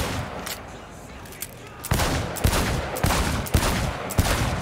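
Rapid rounds of gunfire crack out in a timed shooting contest in a video game, a quieter stretch of scattered shots giving way to loud, evenly spaced bursts of fire.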